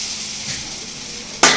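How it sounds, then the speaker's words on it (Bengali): Chickpeas and potatoes frying in oil produce a brief, steady close sizzle, ending in a sudden louder burst of crackle and metal scraping as the pan is stirred, with no talk. "ছোলা আলু ভাজা হয়ে গেছে এবার নামিয়ে নিচ্ছে"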